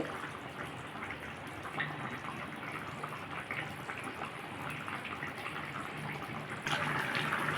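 A pot of fish curry with potato and pointed gourd simmers on the stove, a steady watery bubbling and gurgling that holds throughout and swells slightly louder near the end.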